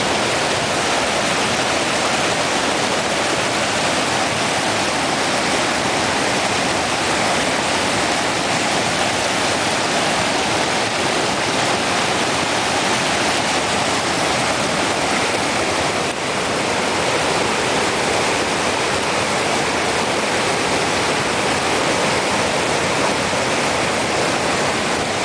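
A waterfall on a Snow Lake hike in May gives a steady, full roar of rushing water, close by and unbroken for the whole stretch, with no voices.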